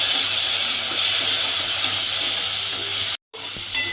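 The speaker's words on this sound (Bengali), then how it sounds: "দিয়ে এবার খুব ভালোভাবে একটু কষিয়ে নিতে হবে।" A ground green chili spice paste fries in hot oil in a pan as it is stirred, giving a steady close sizzle with faint scraping, broken by a very short dropout near the end before the sizzle resumes.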